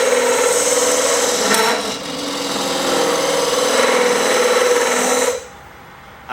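A card scraper shaving wood to hollow out a small ring box, a sustained rough rasping drone that shifts slightly in tone and then stops abruptly near the end, loud and close with no talk.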